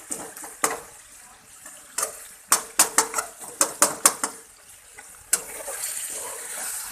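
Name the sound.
mashing tomatoes in a pan for chicken charsi karahi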